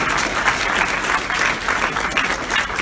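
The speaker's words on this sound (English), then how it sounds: "Give me a big round of applause." A crowd at a hypnotist show applauds in a dense, continuous wash of clapping, loud and steady throughout without individual voices standing out.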